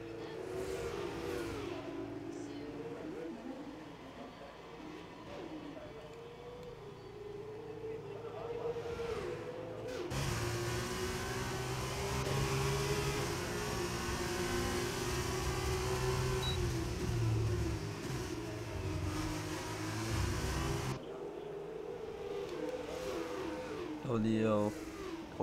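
Formula 2 race cars in a racing video game drone continuously through the last lap of a race in Austria, engine whine rising and shifting as a close pack runs together, with a commentator talking over it throughout.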